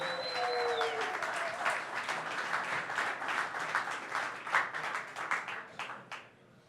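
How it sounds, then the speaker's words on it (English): A craft brewing conference audience gives a round of applause for sponsors and the organizing team, dense clapping from many hands filling the room at full strength before tapering off toward the end. "a big round of applause to our sponsors and the entire Brewbound team"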